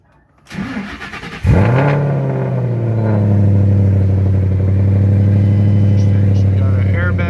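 A Ford Mustang GT500 engine cranks briefly, then catches with a loud bark and settles into a deep, steady idle close by, with faint cabin clicks and chimes over the rumble.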